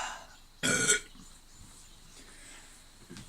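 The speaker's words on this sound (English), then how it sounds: "Every time it's a burp." A short, loud burp erupts close to the mic for about a third of a second, followed by quiet and a faint start of another sound at the end.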